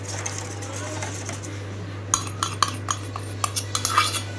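Egg batter for KFC-style fried chicken being whisked in a bowl, a steady low hum first, then quick clinking utensil taps against the bowl in an irregular rhythm, close and moderately loud.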